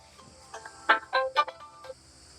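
A mobile phone rings with an incoming call, a short melodic ringtone of a few bright bursts, fairly faint over a quiet room with no talking.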